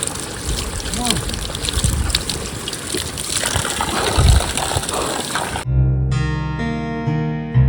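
Spring water gushing from a hillside source where the springs are breaking out: a loud, steady, close rush of flowing water for several seconds, then cut off abruptly by music.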